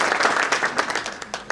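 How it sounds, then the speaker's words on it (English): Conference audience clapping at a technology and innovation conference, a short burst of dense applause from a crowded hall. "Can you cheer up by a clap?"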